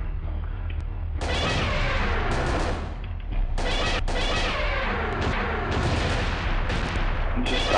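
Heavy gunfire in the Parasite Eve 2 video game during a boss fight against a flaming enemy arrives in loud repeated bursts of shots with brief gaps and booming impacts between them.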